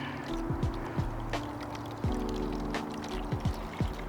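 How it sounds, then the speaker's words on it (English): Water pours from a container into a plastic seed starter tray, a close, steady trickle and splash broken by short gurgles and glugs over about four seconds, with no talking. "Put some water in here."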